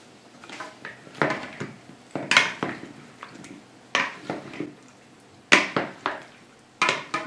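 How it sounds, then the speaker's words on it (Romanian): Pasta and vegetable salad being stirred in a bowl, with clattering utensil scrapes and clinks in uneven bursts, some louder and some soft, separated by short pauses. "Amestecăm și salata este gata."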